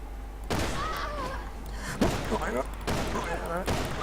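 Several heavy gunshot bursts from Resident Evil 6 in sharp, irregular bursts, with someone talking over the shooting throughout.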